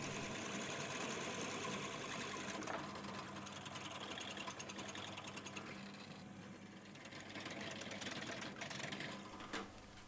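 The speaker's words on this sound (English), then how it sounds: "So there we go, 4 holes drilled." A drill bores holes into the front fork damper rod of a Honda NC750X motorcycle, a continuous close whirring buzz that runs steadily throughout with slight shifts in pitch and load.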